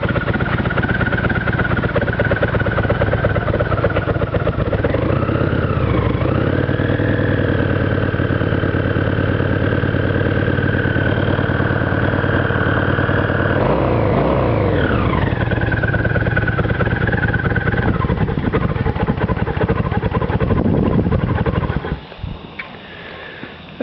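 A Kawasaki VN800 custom motorcycle engine runs loud and close, idling steadily with a couple of throttle blips that rise and fall in pitch, before the engine cuts off near the end.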